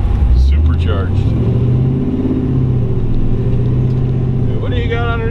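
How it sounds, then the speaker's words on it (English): Supercharged LSA V8 in a 1958 Chevrolet Yeoman two-door wagon with a 4L80E automatic, revving in place as a deep, loud, sustained rumble with rising and falling engine pitch; people talk close by over it. "Been in drive, pull it up a little bit, we'll just rev it up."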